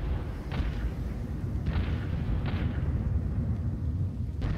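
Heavy cannon fire in the video game Apocalipsis, several deep, booming blasts spaced irregularly over a constant low rumble, loud and close.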